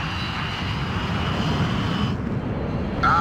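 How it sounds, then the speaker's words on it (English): Steady drone of the Ocean Air Force transport plane Mother Goose One's engines in the Ace Combat 5 video game, a broad continuous roar held evenly throughout, with a brief brighter radio-like tone entering near the end. "This is the Ocean Air Force transport plane Mother Goose One."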